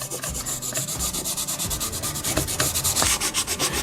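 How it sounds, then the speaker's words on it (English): Fine sandpaper rubs over carved wood in quick, even back-and-forth strokes, a rhythmic scratchy rasp that repeats steadily close to the listener. "Now I'm going to take a fine piece of sandpaper and just sand the whole thing."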